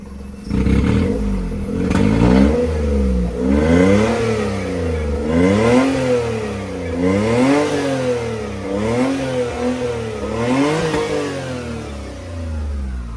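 Car engine fitted with a custom valvetronic exhaust revving repeatedly, each rise and fall in pitch rumbling loud and close, with a deep throaty tone and no talking.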